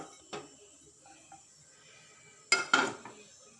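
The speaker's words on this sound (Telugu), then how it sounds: "ఇక సర్వింగ్ బౌల్లోకి వేసేస్తున్నాను." Egg fry with pepper and garlic being moved from a pan into a serving bowl, heard as a few close metallic clinks and scrapes of a utensil against cookware, quiet between the clatters, with no talking.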